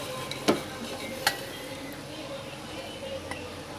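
A spoon dishes cooked vegetable pulao rice out of a pot, with two light metallic clinks near the start followed by soft scraping and rustling.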